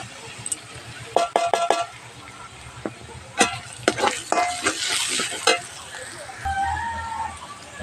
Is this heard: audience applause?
no